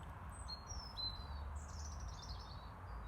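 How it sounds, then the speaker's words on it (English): Blackbirds sing faintly in the distance, a few thin whistled phrases over a low background rumble outdoors. "I can hear blackbirds."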